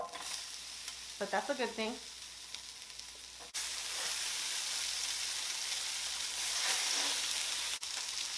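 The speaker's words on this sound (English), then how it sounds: "And then I'm going to add my onions first." Onions frying on a hot griddle give a steady broadband sizzle that swells louder partway through, with a brief voice early on before the hiss takes over.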